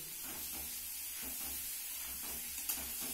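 Food frying in a generous amount of oil while being stirred, a steady close hiss and sizzle with faint scraping movements underneath, quiet and continuous.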